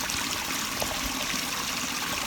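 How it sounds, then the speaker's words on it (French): A small forest stream runs steadily nearby, a constant bright trickling and babbling of water with no voices over it. "je sais pas si vous entendez le son du ruisseau"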